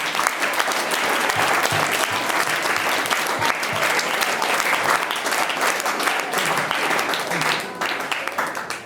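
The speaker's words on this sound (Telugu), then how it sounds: "చప్పట్లు కొట్టండి." An audience at a chess board distribution event in Karimnagar applauds steadily and densely for several seconds, loud and close, the clapping tapering slightly at the end.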